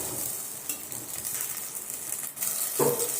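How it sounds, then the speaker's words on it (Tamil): Ground tomato paste and spices sautéing in a pan for brinjal kara kuzhambu, giving a soft steady sizzle with faint scraping and stirring clicks, close and moderately quiet. "இப்போ நம்ம அரைச்சி வச்சுருக்க தக்காளி பேஸ்ட்டையும் இதில் சேர்த்துக்கலாம் இதெல்லாம் நல்லா வதங்கட்டும்"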